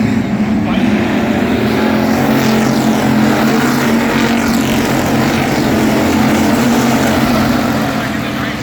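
Factory stock cars racing side by side on a track at a feature event, a loud continuous roar of several engines droning close by, with a commentator talking over it.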